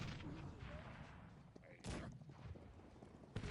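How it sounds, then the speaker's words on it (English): Sharp booming cannon shots crack out twice amid a dense, noisy battle din in the video game Cossacks 3, one near the middle and another near the end. "Cannons, shoot at them, please."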